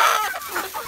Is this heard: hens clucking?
yes